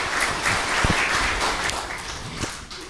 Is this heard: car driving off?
no